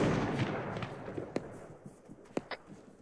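Scattered gunshots in the video game Arma 3, a few sharp distant cracks spaced irregularly over a low rumbling background, mostly faint with two or three louder reports.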